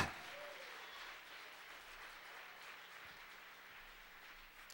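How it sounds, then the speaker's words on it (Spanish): Church congregation applauding at a Spanish-language sermon service, a steady, moderately distant wash of many hands clapping that holds evenly for several seconds without a break. "Dele un fuerte aplauso."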